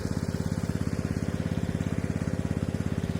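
A centrifugal water pump draws water from a four-inch borehole well drilled about 32 metres deep, giving a loud, steady, close-up mechanical drone with a fast, even throb that never changes.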